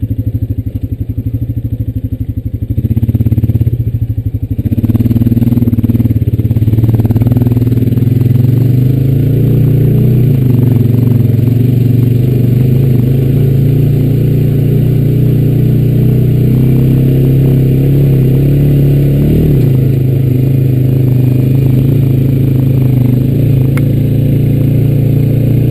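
A Honda Rancher 420AT ATV engine labours loudly and close while climbing a ski slope, holding a dense, steady drone for the whole stretch, with a few shifts in pitch as the throttle changes.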